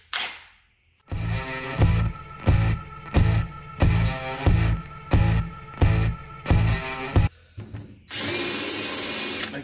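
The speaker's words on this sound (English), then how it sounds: "So open them up for the bolt size, and countersink them for the head size." A power drill countersinks bolt holes in wood in a string of short, evenly spaced bursts of whirring and grinding, close and loud with brief pauses between passes.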